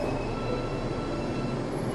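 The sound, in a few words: train stopping at station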